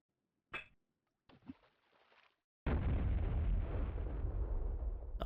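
Grenade blasts in Duke Nukem 64 follow two small thuds: a long, loud, rumbling explosion takes over and keeps roaring to the end.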